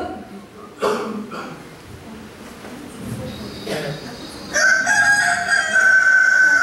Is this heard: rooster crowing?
yes